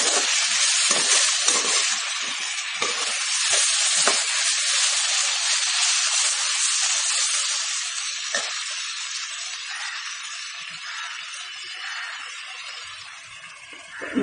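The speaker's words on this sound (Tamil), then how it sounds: "தனியா பவுடர், மிளகாப்பொடி பவுடர், மஞ்சப்பொடி, ஜீரகப்பொடி எல்லாத்தையும் வந்து இதில் போட்டு வதக்கிடலாம்." Coriander, chili, turmeric and cumin powders sautéing in hot oil for vada curry, a continuous loud hissing sizzle heard close up, steady throughout with slight crackles and no talking.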